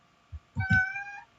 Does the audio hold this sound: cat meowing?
yes